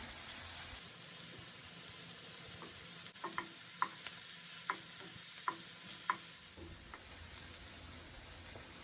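Shrimp sear in a hot pan with a steady sizzle, while a series of light clicks and scrapes marks the pieces being turned over one by one.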